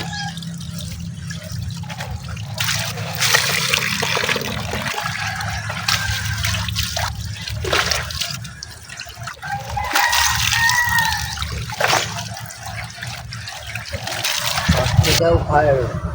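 Water runs steadily while clothes are washed by hand for the household laundry, a continuous splashing trickle at close range with faint voices in the background.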